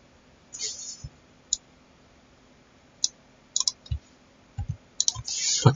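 A computer mouse is clicked while working in QGIS mapping software, sharp single and double clicks scattered irregularly, close but quiet over a low background hum.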